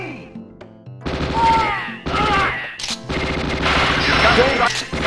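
Machine gun fire from the arcade shooter Under Fire crackles in rapid loud bursts separated by short gaps, mixed with game sound effects and a voice.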